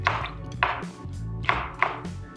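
A knife chops mango on a board with a few sharp, close knocks at uneven intervals, the cuts clear against quiet surroundings.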